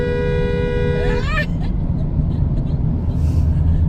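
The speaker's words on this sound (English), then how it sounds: "Now you have to honk. Honk for 1 second." A car horn blares in one sustained honk of about a second, then cuts off, leaving engine rumble and road noise.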